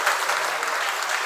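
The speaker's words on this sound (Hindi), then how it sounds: "उसकी तालियां बज रही आज" A brief burst of dense clapping from an audience gathered for a Jain monk's religious discourse, loud and even from start to finish.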